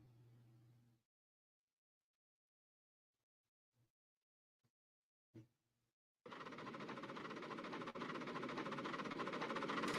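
A train engine passing: after a few faint clicks in near silence, a loud, steady rumbling roar sets in and holds for the last few seconds.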